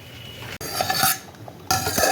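A utensil scrapes and clinks gently against a pan while rice is stirred, with soft intermittent scraping at close range and no talking.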